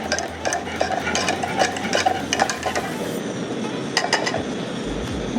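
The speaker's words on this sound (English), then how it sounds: "So what I'm going to do now is to stir till I just see a soft boil on the milk." Hot milk is stirred in a pot on a low gas flame while being brought to a soft boil for homemade yoghurt, with repeated scraping and clinking of a spoon against the pot over a low background hum.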